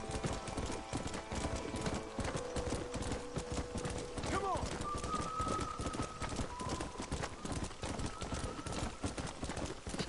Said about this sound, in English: let's just ride our horse down back over to Seth